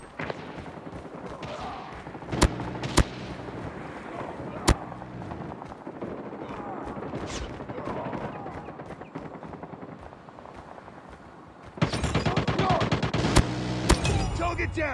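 Sentry gun and battlefield fire in the mobile shooter Call of Duty Mobile, with sharp isolated bangs scattered over busy combat noise, then a louder dense stretch of rapid shots near the end.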